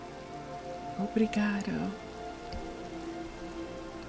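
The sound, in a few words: rain falling through trees in Minecraft, video game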